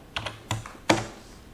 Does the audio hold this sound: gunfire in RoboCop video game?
no